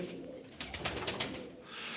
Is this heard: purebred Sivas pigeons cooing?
yes